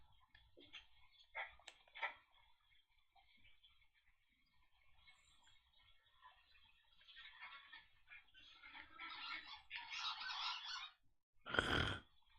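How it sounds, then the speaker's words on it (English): Geese honk in the video game Firewatch, a burst of overlapping calls building up near the end after quieter ticking and ambient sounds earlier. "We got some geese over here."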